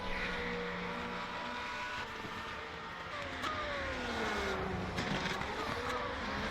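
Race car cornering through long sweeping turns at Fuji Speedway with its tyres smoking, a steady engine roar with rising and falling pitch sweeps, under constant background noise.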